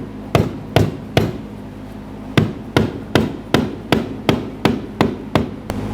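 Sharp metallic hammer blows strike a fuel pump locking ring on a 2011-2020 Toyota Sienna, about a dozen close, loud taps in an uneven series with a short pause early on.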